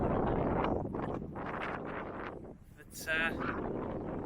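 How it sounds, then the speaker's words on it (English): Wind buffets the microphone on an exposed stretch of the Pembrokeshire coastal path, rough low gusts rising and falling close up, with a person speaking briefly. "wind's picked up a bit"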